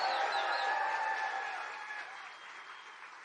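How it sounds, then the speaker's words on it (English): A crowd at a political rally in Traverse City, Michigan claps in a broad wash of applause that slowly fades over a few seconds. "let's give a round of applause for Mike Rogers"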